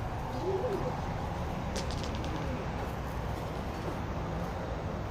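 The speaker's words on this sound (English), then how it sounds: "All I hear is a pigeon." Pigeon cooing in an urban street during lockdown, a faint low coo under steady broadband background noise that runs through the whole stretch.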